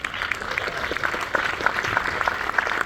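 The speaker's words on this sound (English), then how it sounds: "A big applause to Delphine and Serafina to accept this award from Los Angeles, Italia Film Festival" An audience at the Los Angeles, Italia Film Festival award ceremony claps warmly and steadily, a dense, continuous indoor applause with no voices over it.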